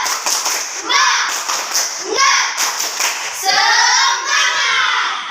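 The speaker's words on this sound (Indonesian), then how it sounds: "Tepuk semangat." Schoolchildren perform the rhythmic 'tepuk semangat' spirit clap in a classroom, loud bursts of patterned hand claps with children chanting along in short shouted phrases.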